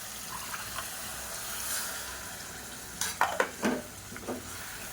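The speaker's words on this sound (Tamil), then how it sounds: "நல்லா கலந்து விட்டுட்டு" A spoon stirs poppy seed gravy with drumstick and potato in a pressure cooker, giving a few close scraping clinks and wet swishes in the last seconds after a quiet, hissing kitchen background, with no talking.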